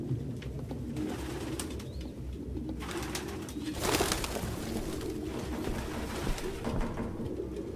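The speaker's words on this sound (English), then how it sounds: "No human could live with all these fucking pigeons." Pigeons coo in an abandoned apartment in the Detroit: Become Human video game, a close, soft, repeated warbling from several birds over faint room ambience and occasional wing rustles.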